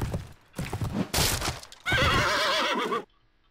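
A horse in the medieval video game Mount & Blade whinnies loudly with a wavering neigh after a few clip-clop hoof and movement sounds, then the sound cuts off abruptly.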